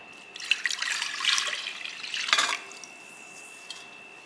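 Tap water runs into a bowl for bagel dough in splashy bursts for about two seconds, close by, then trails off to a quiet hiss with a faint drip near the end.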